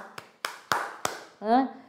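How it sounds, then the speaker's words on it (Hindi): A few sharp hand claps or taps, four distinct hits spaced unevenly, close and fairly quiet in a classroom-style setting, followed by a short burst of voice. "तालियां भाई उनके लिए"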